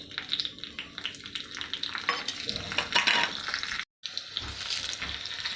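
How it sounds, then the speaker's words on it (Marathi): Cumin seeds and a little green chili crackle and sizzle in hot oil for a tempering, a steady broadband hiss with scattered pops and stirring, briefly cut off near the end before resuming. "तेल तापले की आपण त्यात टाकूया जिरं अर्धा चमचा थोडीशी हिरवी मिरची"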